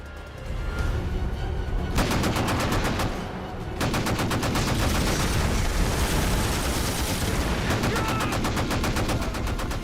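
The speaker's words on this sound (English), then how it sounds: "I want to see heavy fire directed to that beach." Heavy battle gunfire fills a war movie scene as dense, rapid machine-gun bursts with booming shots keep up almost without pause, loud and close, with one short lull in the middle.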